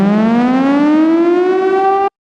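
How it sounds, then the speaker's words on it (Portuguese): Civil defense siren wailing loud and alone, its tone rising steadily over about two seconds before cutting off abruptly. "é uma sirene de quando toda a esperança está perdida"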